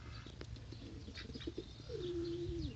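A pigeon coos nearby in a quiet setting, soft low calls followed by a longer drawn-out coo, with faint rustling and a brief chirp earlier.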